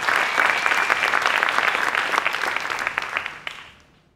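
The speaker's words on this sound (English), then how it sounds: "A round of applause," A roomful of people applauds, steady clapping that swells briefly and then tapers off to quiet over a few seconds.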